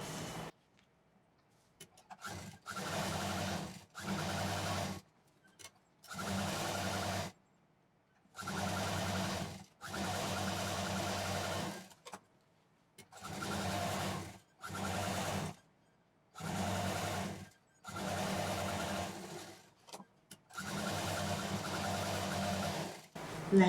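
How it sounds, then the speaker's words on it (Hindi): A sewing machine stitches lining all around a piece of jeans denim for a handmade shoulder bag, running in repeated bursts of a few seconds each, separated by short pauses, steady and fairly close. "अब इस लाइनिंग को इस पर चारों तरफ से सिल देंगे।"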